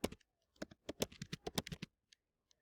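A computer keyboard is typed on up close, giving a quick run of light clicky keystrokes for about two seconds, then a couple of isolated taps, with no voices.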